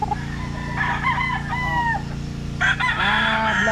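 A broodstag gamecock of Falspark Gray bloodline crowing loudly on a breeding farm, with two long drawn-out crows and more clucking and crowing from other fowl nearby, against a constant background hum.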